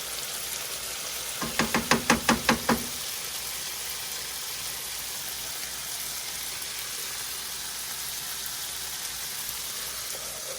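Garlic sizzling in a frying pan, a steady hiss throughout, broken early by a quick burst of six or so sharp knocks like a utensil tapping the pan.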